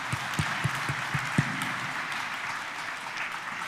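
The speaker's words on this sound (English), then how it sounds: "I want to hear a round of applause for the President." An indoor audience at a Katiba Day commemoration at KICC in Nairobi applauds the President, with a few distinct claps at first and then a steady, moderately loud wash of clapping with no talk.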